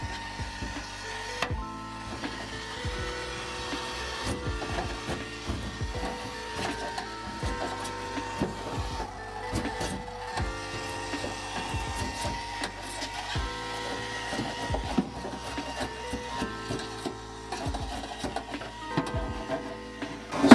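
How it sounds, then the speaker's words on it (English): A grinder with a wire wheel or cup brush strips sound deadening from the inside of an S15 race car shell, a continuous close, harsh whirring scrape that holds steady throughout with no talk. "take a wire wheel and or a cut brush and a grinder and take all that off"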